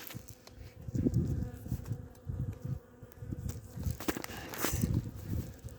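Honeybees buzzing around an opened beehive during winter hive care, a steady droning hum rising and falling, with a few close insects passing near and faint handling rustles.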